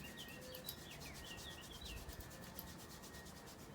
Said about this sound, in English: Dry wash your hands, taking that warmth all around.